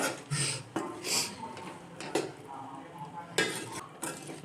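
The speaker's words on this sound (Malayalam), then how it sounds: "ഇട്ട് കൊടുത്തതിന് ശേഷം ഇങ്ങനെ ഇളക്കി കൊടുക്കും." A spoon stirs cut mango pickle in a metal vessel, giving soft scraping and light clinks at an uneven pace, fairly close and quiet.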